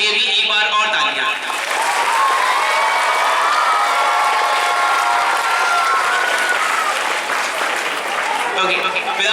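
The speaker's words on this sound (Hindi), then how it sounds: "एक बार और उन सारे बच्चों के लिए भी जिन्होंने बहुत ही मेहनत के साथ इस पोडियम को तैयार किया, इस स्टेज को तैयार किया और उनके अथक मेहनत के लिए भी एक बार और तालियां।" An audience at a school Independence Day celebration breaks into sustained, loud applause mixed with cheering and children's shouts, the clapping steady throughout and trailing off slightly at the end.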